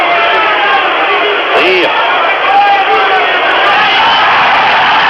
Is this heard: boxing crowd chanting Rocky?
yes